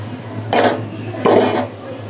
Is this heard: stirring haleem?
yes